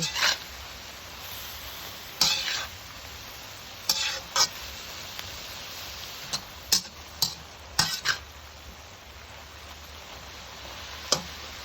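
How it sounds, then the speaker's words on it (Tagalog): Sliced eggs are stirred into sautéed cabbage in a pan, with a soft sizzle underneath and a few sharp utensil scrapes and clinks scattered across the mix. "i-add na natin ang ating mga hiniwang itlog. At atin nang itong i-mix sa ating gulay."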